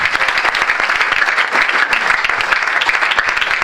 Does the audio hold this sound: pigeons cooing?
no